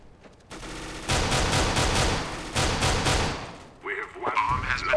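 Rapid bursts of automatic gunfire from Counter-Strike: Global Offensive on Dust 2, Xbox 360, loud repeated volleys with a brief lull, followed by softer game effects near the end.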